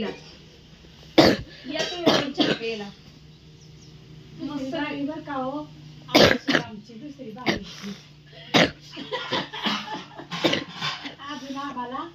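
Repeated harsh coughs break out in clusters, with a person talking in between.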